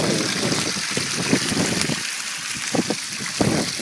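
A homemade water pump for a gold cube trommel runs steadily, pouring a continuous splashing stream into a bucket close by, with brief gurgles and surges over the flow.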